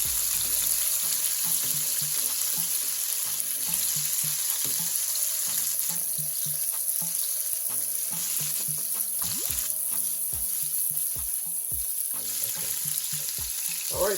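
King fish steaks sizzling in a frying pan, Jamaican style, a constant hiss of hot oil with scattered pops and a few clinks of a utensil, no talking.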